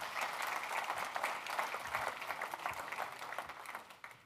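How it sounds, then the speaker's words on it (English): An audience gives a round of applause for John and the NashTech team at a charity technology event, steady dense clapping that holds for several seconds before thinning slightly at the end. "Please give them a round of applause"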